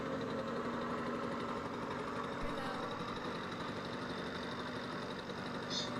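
Engine of a farm vehicle in Farming Simulator 17 drones steadily as it slowly accelerates, a low rumbling idle-like hum with faint vibration, no talking over it.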